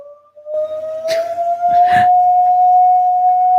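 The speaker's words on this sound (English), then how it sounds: "She heard a police car, ambulance, or something." A single steady siren tone wails continuously, rising slightly in pitch, with a couple of brief rustling bursts partway through.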